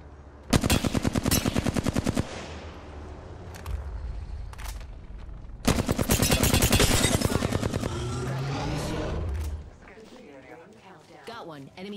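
Video game gunfire in a first-person shooter: two loud bursts of rapid automatic shots, the first brief and the second longer, with voices talking over the action and in the quieter gaps.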